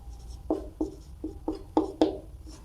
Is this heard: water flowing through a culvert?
no